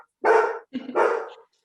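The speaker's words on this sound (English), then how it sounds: "Is that your pup?" A pet dog barks twice in quick succession, loud and close, each bark a rough, breathy burst during a home video call, with no talk over it.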